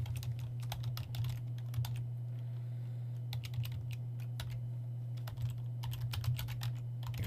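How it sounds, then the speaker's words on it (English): Typing on a computer keyboard while composing HTML characters, a quick irregular run of close keystrokes in short bursts with pauses, over a steady low electrical hum. "Let me just type one more."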